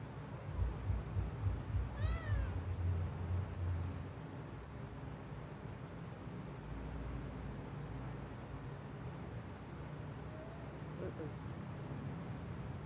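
A kitten gives a short series of rising meows, close and fairly clear, over low household rumble and background noise, and the rest of the clip is quieter.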